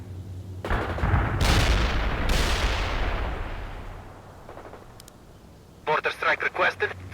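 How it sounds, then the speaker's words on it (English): Artillery strike in the World in Conflict video game: heavy booms land close and loud, two big blasts rumbling and slowly fading, followed by a rapid burst of gunfire, with radio voices talking over it. "Artillery strike on target now!"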